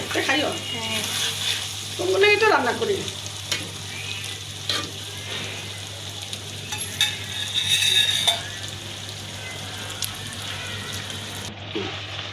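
Pabda fish sautéing in a pan makes a steady close sizzle with stirring scrapes and clinks, and it swells louder around two bursts. A voice is faintly present.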